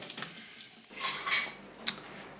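Boudin blanc ingredients with minced plain pork belly being mixed in a bowl produce a few quiet clinks and scrapes of utensil against dish, sparse and close.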